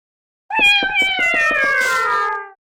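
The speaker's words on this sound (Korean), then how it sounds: "야옹이음계 발판은 밟으면 고양이 소리가 난다." Meowing cat sound from a music footboard in the video game Tales Runner, a single clear, drawn-out synthetic meow with a stuttering, pulsed onset, loud and alone, gliding down in pitch before cutting off.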